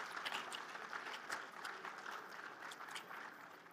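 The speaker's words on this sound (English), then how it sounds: "So can we give them a huge round of applause once again," Audience applause for panelists at the Umagine TN tech event in Hall C, a faint, continuous patter of clapping heard from a distance throughout.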